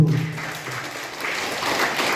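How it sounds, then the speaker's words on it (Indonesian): Audience applause for teachers at a vocational school event, a steady wash of clapping that swells slightly toward the end, with a brief voice at the very start. "Tepuk tangan untuk para guru"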